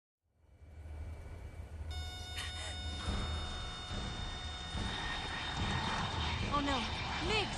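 MiG fighter jets roaring in Metal Gear Solid 3, building from silence into a loud, sustained engine rush over tense game music, with a voice briefly heard.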